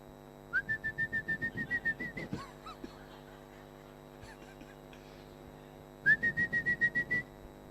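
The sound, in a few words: human whistle imitation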